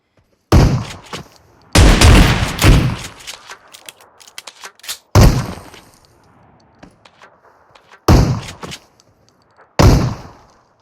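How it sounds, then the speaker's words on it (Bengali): Several sharp bursts of video game gunfire crack out in separate volleys, loud and close, with quieter scuffing and clicks between them. "গুলি দিয়ে দেয়ালে লাগতেছে"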